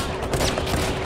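Gunfire rattles in a shooting video game as a dense, fast burst of rapid shots, loud and close and continuous across the whole moment.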